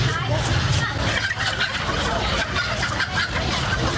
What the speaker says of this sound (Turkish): Burada böyle tavukları, kazları, ördekleri canlı satıyorlar.